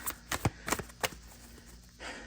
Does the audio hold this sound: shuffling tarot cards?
yes